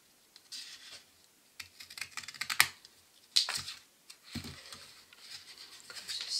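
A paper photo card being cut out with a margin left for gluing, heard as close, quiet bursts of crisp snipping and scratching with short pauses between.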